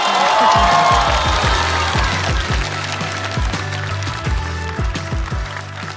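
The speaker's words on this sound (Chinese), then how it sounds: "再次掌声送给丹妮" Studio audience at a Chinese stand-up comedy show bursts into sustained applause and some cheering, loud and dense at first, then tapering slightly while continuing steadily to the end.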